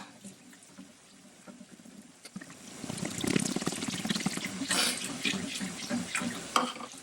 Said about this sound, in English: And pour a little faster now.